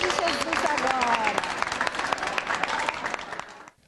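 Children at a school activity applaud, a dense burst of many small hands clapping at once, loud and close, with high young voices calling out over it before the clapping fades away at the end.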